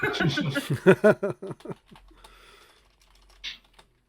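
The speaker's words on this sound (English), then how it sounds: "Sam's typing, so I'm being Sam." Someone types on a computer keyboard, a faint scatter of clicks that follows a burst of speech and a brief chuckle, then trails off near the end.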